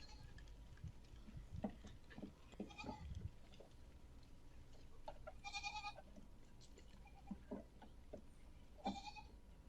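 A huge herd of roughly a thousand goats, heard as scattered overlapping bleats at moderate distance over a soft ambient bed, with several distinct calls rising at irregular intervals.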